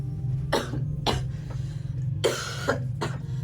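Four sharp, raspy coughs from a person ill with a fever come close to the listener, spaced unevenly over a steady low hum.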